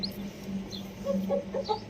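A native-breed hen gives a few low, soft clucks while newly hatched chicks peep in short, high chirps close by.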